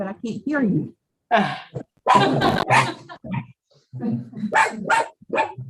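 A dog barks a few times in the background of a video-conferenced Board of Education meeting, mixed under and between people talking.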